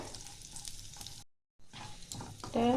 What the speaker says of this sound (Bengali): ব্রাউন করে আমি ভেজে নিচ্ছি